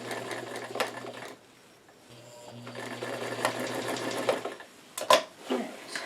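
A sewing machine stitches the lining of a newsboy cap in short runs, its rapid mechanical whir stopping and restarting with a brief pause, then a few clunks of handling at the end.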